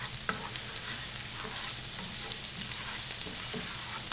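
Garlic frying in oil over high heat, a steady, fairly quiet sizzle with faint stirring clicks underneath.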